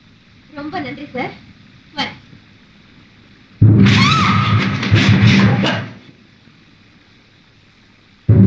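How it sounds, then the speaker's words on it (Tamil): Thunder in a night scene rolls in as a loud, sudden crash with a long rumbling tail lasting a couple of seconds, following short spoken lines from a man, with another clap starting at the end. "இடிக்குது இல்ல?"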